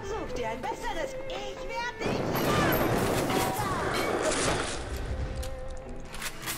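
Explosive buckshot shotgun fire in the Bioshock video game comes as a dense burst of blasts and crashes amid game effects, while someone talks over it.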